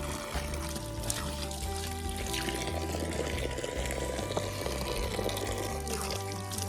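Cold water flows at Siran Danda, likely from a spring or tap, in a continuous close splashing and trickling stream that stays steady throughout with no voices over it.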